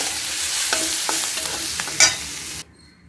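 Chana dal and dried red chillies are stirred in a hot pan for a chutney, giving a close, steady crackling sizzle with a few scraping strokes before it cuts off abruptly into near silence.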